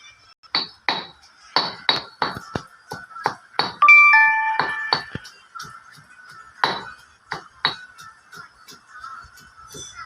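Chili paste for an eggplant chili dip pounded with a pestle in a mortar, likely clay, a steady run of sharp, close knocks, some with a faint bell-like ring, with no voices.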